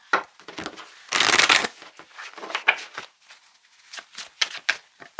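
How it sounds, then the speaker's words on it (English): Tarot cards being shuffled in bursts: a long riffle in the middle, then shorter flicks and snaps of card stock, fairly close, with no talking. "So much shuffling in this pile."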